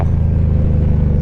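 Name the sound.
Indian Scout motorcycle with Reinhardt exhaust revving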